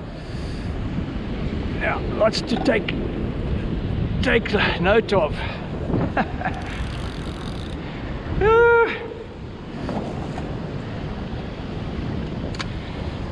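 Southeaster wind and waves on a beach while surf fishing, a constant rushing roar of gusts and breaking water with a louder surge midway, overlaid by someone speaking briefly.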